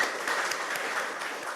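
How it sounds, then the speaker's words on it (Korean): A church congregation claps together, a short burst of dense, moderately loud applause that carries through briefly without a break. "박수 한번 쳐요."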